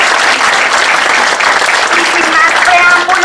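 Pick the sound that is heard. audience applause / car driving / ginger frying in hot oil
audience applause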